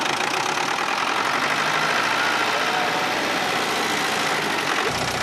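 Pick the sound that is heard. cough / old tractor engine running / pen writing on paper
old tractor engine running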